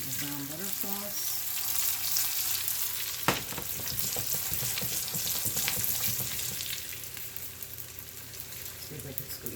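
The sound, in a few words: ravioli sautéing in brown butter sauce in a small pan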